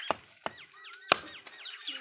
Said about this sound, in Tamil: பொரியலுக்கு தேங்காய் திருவுருக்கும் தேங்காய் உடச்சிக்கலாங்க.